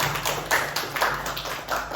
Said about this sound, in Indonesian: Beri aplaus untuk Mbak Brili.